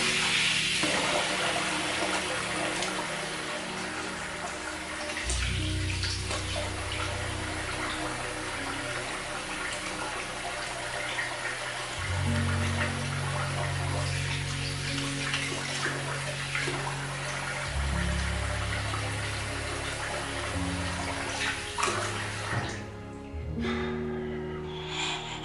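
Running water splashes steadily from a tap as a face is rinsed off after a wet shave, broad continuous rushing with shifting low tones and brief interruptions near the end; no talk.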